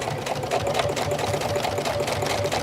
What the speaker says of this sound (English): I've got to set this again just to a straight stitch.